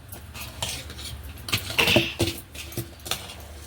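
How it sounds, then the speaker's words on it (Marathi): A spoon stirring salt into idli batter made from ration rice, with repeated metallic clinks and scrapes against the bowl, close and moderately loud, and no speech. "याच्यामध्ये मी चवीनुसार आपण मीठ घालूया मस्त मिक्स करून घेऊया"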